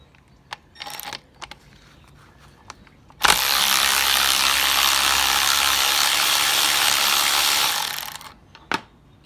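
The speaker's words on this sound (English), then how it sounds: "just get a 13 millimeter socket and get the lines removed here" Power ratchet with a 13 mm socket removing AC compressor lines on a Ford Escape 2.5, a loud continuous buzzing whir lasting about five seconds, bracketed by scattered clicks and clanks of tools.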